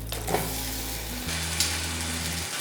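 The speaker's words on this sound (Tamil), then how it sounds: "அப்படியே நம்ம இதை திருப்பி போட்டுடலாம்." Steady, loud, close frying sizzle of an adai on a hot pan, with a brief scrape as it is turned partway through and no talk.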